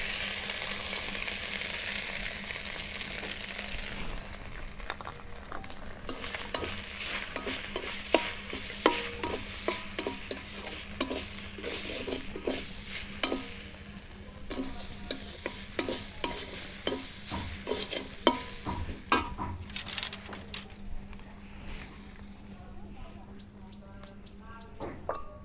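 Whole cumin and ground coconut paste fry in a pan, with a steady sizzle under repeated clicks of a spoon scraping and stirring. It runs moderately loud and close for the whole stretch, with no one talking.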